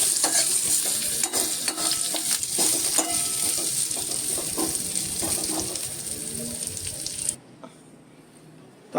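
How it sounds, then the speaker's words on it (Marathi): Curry leaves crackle and sizzle while roasting in a hot pan, with busy stirring scrapes throughout, then the sizzle drops away abruptly near the end. "आता ही देखील आपल्याला व्यवस्थित भाजून घ्यायची आहेत"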